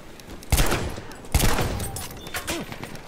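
Two loud shotgun blasts ring out about a second apart in Battlefield 1 gameplay. Each has a sharp crack and a ringing tail, and lighter clatter follows.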